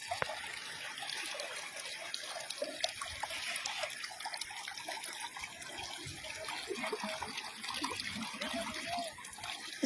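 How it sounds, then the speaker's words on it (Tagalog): A flowing stream current rushes and trickles steadily, a continuous bright splashing wash of water close by with no voices. "Dito na siya lakasan ng agos."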